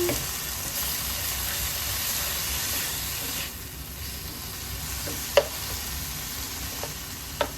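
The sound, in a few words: whole tomato cooking down in a pan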